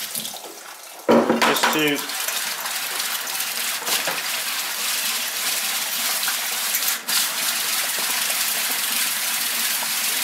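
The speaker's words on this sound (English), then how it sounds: "Now I'm going to add a little bit of that water." Water is poured into a mix of pottery glaze being prepared for sieving, giving a steady close gush and splash that runs on after a brief clatter of a container at the start.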